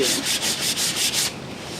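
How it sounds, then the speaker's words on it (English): Rhythmic back-and-forth sanding strokes rasp across wood, about six quick passes, close and loud, then stopping. "we've also been really sanding right in this area"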